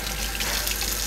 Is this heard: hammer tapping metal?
no